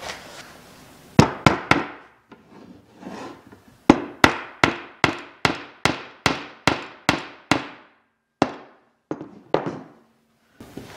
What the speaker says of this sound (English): glue each one into these holes and hammer them in